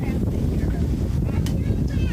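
Heavy wind buffets the microphone outdoors at a large remembrance rally in Louisville, Kentucky, a constant low rumble and roar, loud and close, with faint voices mixed in underneath.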